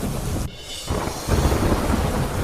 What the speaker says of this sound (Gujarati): અમરેલીના લાઠી તાલુકાના ગ્રામ્ય વિસ્તારોમાં ધોધમાર વરસાદ.